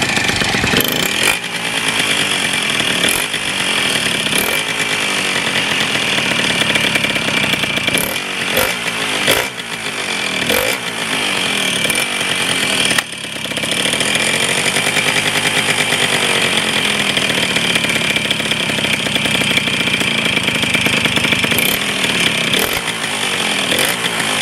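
A Derbi Variant moped engine revs after its exhaust has been welded, a loud, raspy two-stroke buzz that runs almost without a break for over twenty seconds, with throttle blips and brief dips before it climbs again.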